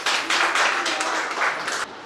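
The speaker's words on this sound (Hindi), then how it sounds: "तालियों से इनका स्वागत करें।" Audience clapping to welcome a girls' group song at an Independence Day school event, a dense burst of applause from a nearby crowd that holds steady, then drops off sharply near the end.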